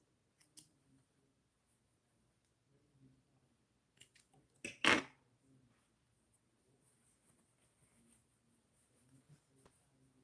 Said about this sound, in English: And we will cut our loose threads.